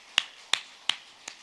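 Church congregation clapping during a Sunday worship service, heard as four sharp, crisp claps in a steady, evenly spaced rhythm, close and distinct against a quiet background.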